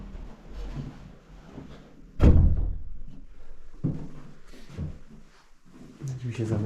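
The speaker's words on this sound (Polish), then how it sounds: "Drzwi się zamykają." A door closing at an old hunting cabin in Norway, one loud thud partway through with smaller knocks and rustles around it while someone talks.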